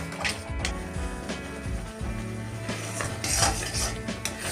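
Flour mixture being stirred in a pan to break up lumps, with a steady run of utensil scrapes and clinks against the metal, close and moderately loud, with no voices.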